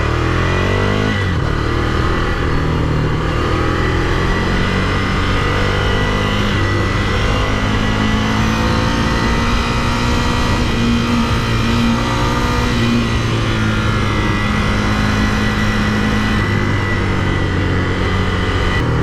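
Ducati Scrambler Desert Sled with an 803 cc L-twin engine, ridden on the road, producing a loud, continuous engine drone that rises and falls smoothly through the revs, with steady wind noise and no talking.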